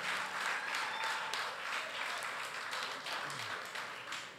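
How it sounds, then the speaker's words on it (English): Crowd applause at a PNM political meeting in Marabella, a steady wash of clapping sustained throughout, fairly distant and moderately quiet with a faint voice briefly underneath. "Let's hear a round of applause for a good government"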